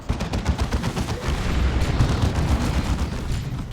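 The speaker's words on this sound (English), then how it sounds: "Shotgun blast." Rapid, dense gunfire from a Warhammer 40,000: Dawn of War 2 battle, with shotgun blasts amid continuous loud booming combat noise for several seconds and no speech.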